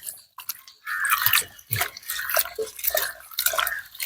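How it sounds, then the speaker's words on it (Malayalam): Krishna tulsi leaves are swished and rinsed in water, giving close, uneven splashing and dripping with short pauses between bursts. "ഇതെല്ലാം ഇട്ടിട്ട് നല്ലപോലെ ഒന്ന് കഴുകിയെടുക്കാം"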